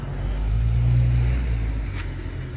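A vehicle passes on the road outside a garage holding a 1960s Chevy C10 truck, its low engine rumble swelling to a peak near mid-clip and easing off as it moves away.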